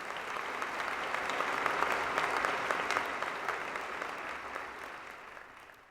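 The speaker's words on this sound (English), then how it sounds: "How about a nice round of applause for Officer Hajek?" Sustained audience applause at a 2014 Patriot Day breakfast honoring a police officer, a dense, steady wash of clapping that holds for about six seconds and eases off slightly toward the end.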